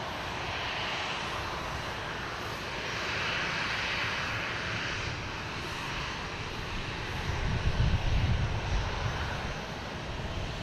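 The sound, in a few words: American Airlines retro livery airplane landing at Boston Logan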